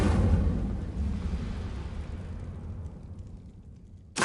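A burst of flame from the Incendio spell in Hogwarts Legacy, opening loud and rumbling, then fading out slowly before a short new burst at the very end.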